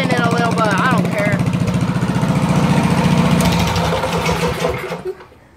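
Mini bike fitted with a Predator engine and an open header, blaring loudly up close with a raspy, sputtering rumble and slight revving, before the engine cuts off abruptly near the end.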